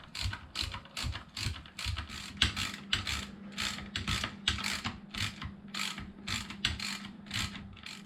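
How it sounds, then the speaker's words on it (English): A ratchet loosens screws on the rear differential cover of a Mojave during a differential fluid change. A quick, even series of close mechanical clicks repeats throughout. "I had to grab a ratchet so I can get in here and get these screws off without having to take the whole rest of the thing apart"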